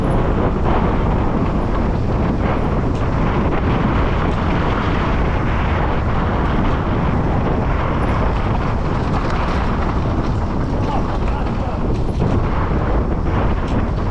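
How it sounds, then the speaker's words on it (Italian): Strong, cold wind roars continuously at a mountain bike ride start in Finale Ligure, a dense, steady rumble buffeting the microphone with no pauses throughout. "Tanto vento e freddo in questa partenza"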